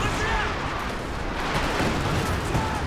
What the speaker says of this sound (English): Major artillery forcing back the Raketens.